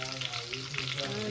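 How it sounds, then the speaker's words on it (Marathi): Crushed ginger, garlic and curry leaves sizzling in hot oil, a dense close crackling hiss that runs steadily throughout with no pauses. "त्यात आता मी कढीपत्ता टाकला आणि त्यात आलं लसूण टाकलं चेचलेलं"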